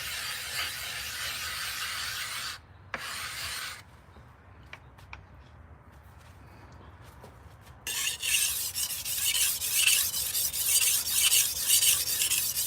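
Knife steel scraping across a sharpening stone in a live sharpening session, long gritty rasping strokes, then a quieter spell of light scratches and taps, then heavier grinding strokes, close and with no talk.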